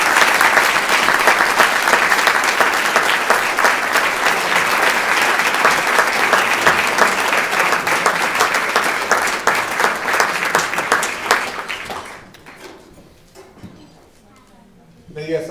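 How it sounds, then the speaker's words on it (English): Loud, enthusiastic applause from a dinner crowd at a county political party banquet, dense clapping sustained for about twelve seconds before fading out abruptly to near quiet. "all of us should give an enormous round of applause for Max Feinstone"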